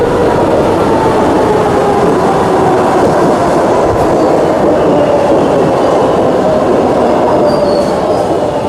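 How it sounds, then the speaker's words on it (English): A New York subway M train rumbles loudly and steadily in a continuous roar of wheels on rail, with faint squeals and clatter layered over the dense low drone. "Patricia Massari catches the M train to downtown Manhattan"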